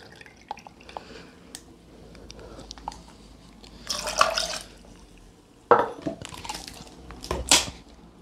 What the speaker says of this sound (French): Donc on va y mettre, pour commencer, du jus de pomme.